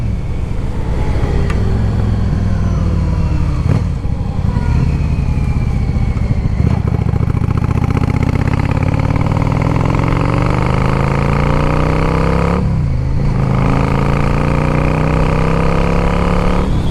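A 2010 Yamaha V Star 650 motorcycle engine runs steadily and loudly throughout while riding, its deep throbbing note rising and falling with throttle changes and a brief dip near the end.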